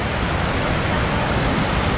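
The Rhine Falls waterfall in Switzerland roars as a loud, dense, unbroken rush of water that fills the whole clip at close range, with no voices.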